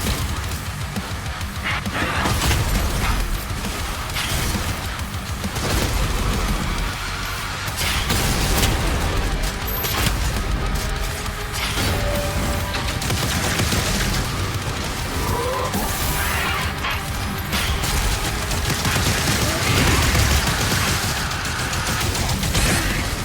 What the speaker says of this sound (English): They're just gonna keep shooting orbs.